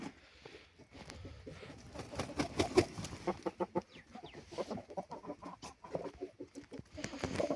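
Chickens and small chicks cluck and peep in a backyard coop, a scattered run of short, close clucks and soft scratching patter at low volume, with no talking.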